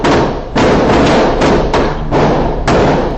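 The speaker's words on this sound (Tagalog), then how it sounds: "Sa kuhang dashcam video ng isang motorista, maririnig ang magkakasunod na putok ng baril habang nakahinto ang mga sasakyan." Successive gunshots caught on a motorist's dashcam while vehicles sit stopped on the NLEX expressway: about five loud, sharp thuds at irregular intervals, each followed by a broad rumbling wash, with no talking.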